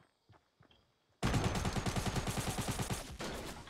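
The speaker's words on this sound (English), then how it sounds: "come at me with my SMG" Rapid SMG fire in the video game Fortnite breaks in suddenly after a few faint taps and keeps up a loud, steady burst of shots to the end.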